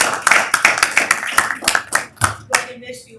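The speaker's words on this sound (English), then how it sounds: "socially distant round of applause" Small group clapping at a county commissioners' open business meeting, a sparse socially distanced round of applause with distinct individual claps that thin out and stop near the end, with voices faintly underneath.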